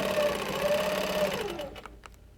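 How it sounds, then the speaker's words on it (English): A sewing machine stitching a quilt along a template whirs steadily and up close for about a second and a half, then winds down and stops, leaving near quiet. "So I'm just going to stitch up, stop with my needle down, shift my template, line it up,"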